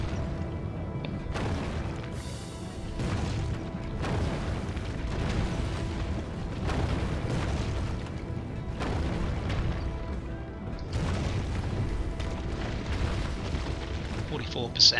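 Onager siege engine in Roma Surrectum II hurling stones at city walls, with repeated heavy booming impacts and crashes rolling through a busy battle din, while a voice talks over the noise.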